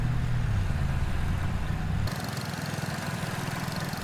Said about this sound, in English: So we're going to test the lawnmower in that jungle we call the yard.